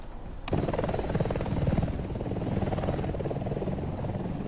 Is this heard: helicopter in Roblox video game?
yes